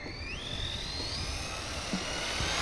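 Arrma Typhon RC buggy motor at full throttle, a high electric whine rising steadily in pitch as it accelerates, heard continuously alongside tire and ground noise, without talk.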